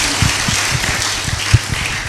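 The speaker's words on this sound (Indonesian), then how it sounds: "Dengan tepuk tangan." A church congregation claps during a service, a dense, steady wash of applause with a few heavier low thumps scattered through.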